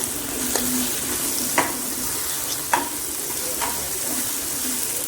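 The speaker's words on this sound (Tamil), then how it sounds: "அதுக்கப்புறம் கொஞ்சம் கல்லுப்பு போட்டு நல்லா வணக்கிக்கலாம்." Garlic paste, tomato and rock salt sautéing in a pan with a steady close sizzle, broken by four or five short scrapes of a spoon stirring through the mixture.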